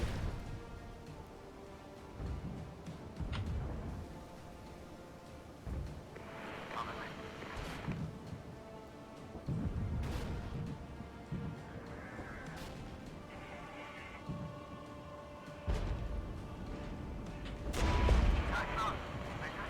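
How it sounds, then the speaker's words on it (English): Artillery bombardment in the Regiments war game, scattered deep booms and crashing impacts at irregular intervals, some distant and muffled, others louder, with a heavy blast near the end. "let's do a little bit of bombardment"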